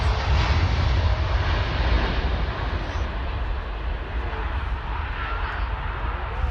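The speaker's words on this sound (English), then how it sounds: "It's focused just as the plane went past." A passing airliner at Manchester Airport gives off a broad, steady roar that starts loud and eases slightly as it moves away, with no voices over it.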